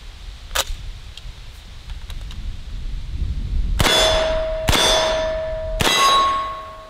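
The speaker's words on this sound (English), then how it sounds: "And the HK SP5, once again, shooting the same ammo." An HK SP5 firing three sharp, loud shots in fairly quick succession, each followed by a bright metallic ringing, after a small click and quiet shuffling.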